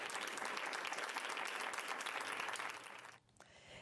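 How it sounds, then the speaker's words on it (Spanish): Thick, steady applause from a crowd paying tribute to women who died, lasting about three seconds before cutting off abruptly into quieter room sound. "Para todas ellas va este aplauso."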